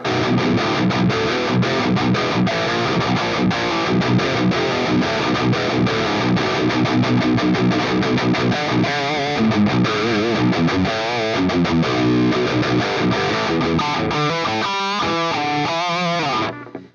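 Distorted electric guitar tuned low to B standard through a Mooer GE200 Plus Diesel amp model churns out dense, heavy riffing, loud and continuous, ending with a few ringing bends before cutting off.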